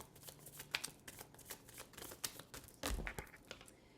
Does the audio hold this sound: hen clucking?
no